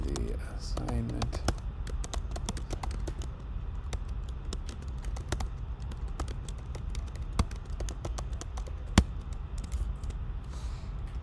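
Typing on a computer keyboard while making meme text in Photoshop: scattered light key clicks, quiet and close, with one sharper tap near the end, under soft talk.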